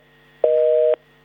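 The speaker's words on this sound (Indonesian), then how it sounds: "sambungan telepon dengan Mas Joko Setiowarno dari MTI, Masyarakat Transportasi Indonesia terputus" A steady telephone busy tone after a dropped call holds for about half a second, then cuts off abruptly. The sound is clear and loud, with no talking around it.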